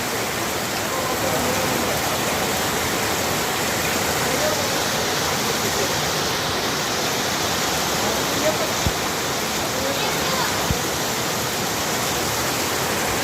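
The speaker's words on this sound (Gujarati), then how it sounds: "જે પુલ પાસે જતા હતા ત્યાંથી વરસાદ શરૂ થઈ ગયો" Constant roaring wash of rain, loud and even for the whole stretch, with a couple of faint knocks near the end.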